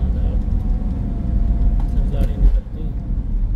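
A car rolls past on a busy international highway as a low, steady rumble of road traffic, fairly close, with people talking over the engine noise.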